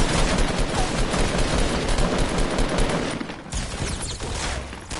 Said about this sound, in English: Mini guns!